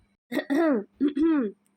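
Two short, voiced coughs in quick succession, like a deliberate throat-clearing "ahem", close and clear against silence.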